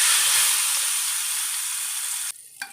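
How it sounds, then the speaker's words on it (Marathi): Hot tempering oil with asafoetida is poured onto a green chilli and curd dish, giving a loud close sizzling hiss that holds steady, then cuts off abruptly near the end, followed by a faint clink. "आता आपण ही फोडणी या तिकटीवरती घालून घेणार आहोत"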